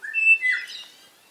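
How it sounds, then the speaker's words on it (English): Eastern rosellas give a short series of clear, high whistled notes in spring, bright and fairly close, fading into quiet near-silence. "Eastern rosellas."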